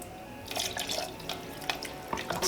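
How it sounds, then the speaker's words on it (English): Water poured from a tap or jug into a thick, bubbling tamarind ketchup sauce on the stove, a close, steady splashing trickle with a few louder spurts, no talking. "So I'm going to add some more water."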